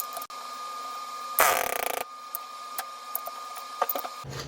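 An air-over-hydraulic press forms a dimple die in up to 1/8 inch steel plate, a loud burst of pneumatic pumping lasting about half a second, then a low hum and scattered small clicks.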